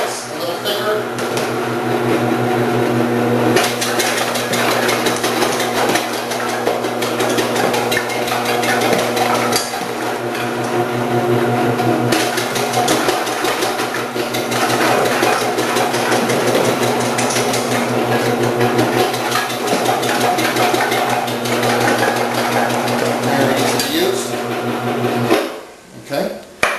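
A multi-purpose electric vegetable slicer cutting carrots into thicker slices gives a loud, constant motor drone with rapid rattling and chopping throughout, cutting out abruptly just before the end.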